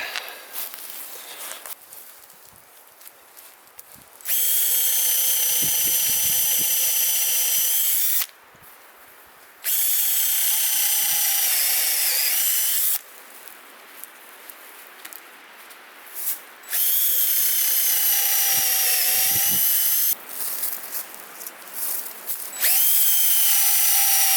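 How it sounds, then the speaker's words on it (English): A power drill runs in several long bursts, pitch dipping as it bites into a wood log for mushroom plug spawn, with quiet pauses and shuffling between runs. "Drill into that."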